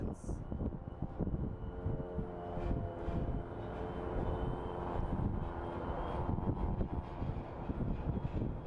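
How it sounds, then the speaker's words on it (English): A Southwest airliner lands at Phoenix Sky Harbor International Airport, its jet engines giving a faint, continuous distant roar with rumbling texture, heard from the airport's north side parking area. "Great landing by the Southwest."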